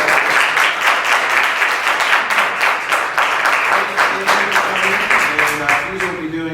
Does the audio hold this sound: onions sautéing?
no